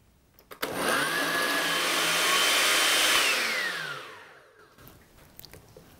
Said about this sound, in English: You'll add that to your blender